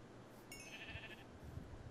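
A single sheep bleats briefly in a video game, a short nasal cry over quiet game ambience with faint low thumps and no talking.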